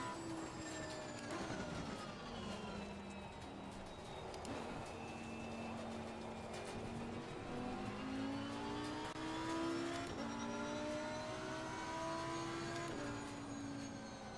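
A race car engine in the Assetto Corsa racing game, its pitch climbing and falling through gear changes and revving at moderate volume, with no talk over it.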